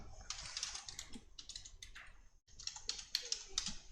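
Typing JavaScript code on a computer keyboard, rapid quiet key clicks in quick bursts with a brief pause in the middle, close and soft.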